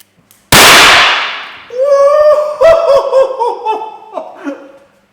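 A car seatbelt pre-tensioner fires with a single sharp, loud bang, followed by people laughing nearby in several bursts.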